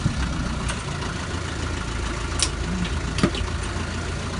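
A Land Rover Lightweight engine rumbles steadily at low revs while the vehicle backs up in reverse, a continuous mid-level drone with faint clicks and knocks over it.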